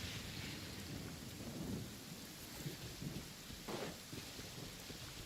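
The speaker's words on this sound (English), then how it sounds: "I like the rain." Steady rain hisses through a Genshin Impact game scene, with soft low thunder rumbles rolling underneath, heard quietly and alone without voices.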